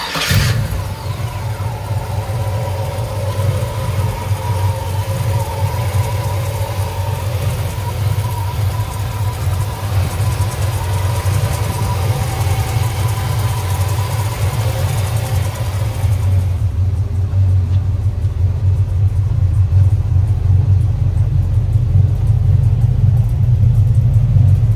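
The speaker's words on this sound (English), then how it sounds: "It's big block Chevelle time, baby. 1969 right here, going for a ride." A 1969 Chevrolet Chevelle with a big block V8 rumbles steadily while driving, a deep low engine drone heard from inside the car that swells louder in the last few seconds.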